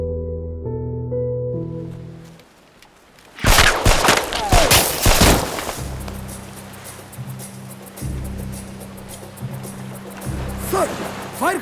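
Gunfire erupts in a TV drama scene, a sudden cluster of sharp loud shots following soft background music, then tense music and ambient noise carry on.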